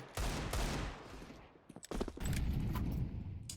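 Gunfire in the CS2 game on Vertigo: rapid automatic bursts of sharp shots, a sustained spray that breaks into a few scattered pops before resuming as a dense stream, close and loud, with no talking.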